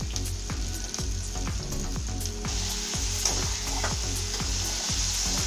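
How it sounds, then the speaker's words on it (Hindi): Pumpkin pieces roast in hot oil for a pumpkin sabzi, making a dense, constant sizzle up close, with repeated stirring scrapes through it. "इसको हमें तेल ही तेल में भूनना है।"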